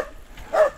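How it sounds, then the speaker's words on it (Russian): A dog outdoors gives a single short bark near the end, brief and moderately loud over quiet surroundings. "Не надо там гавкать"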